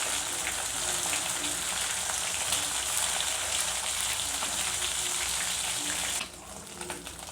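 Small anchovy fish deep-frying in hot oil, a steady close crackling sizzle with dense fine pops that holds evenly for about six seconds, then drops sharply to a softer low bubbling.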